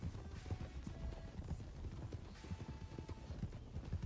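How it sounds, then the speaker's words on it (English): Horse hooves clip-clop steadily and continuously at close range over a dense, rumbling background, with no clear voices. "That is a pretty horse."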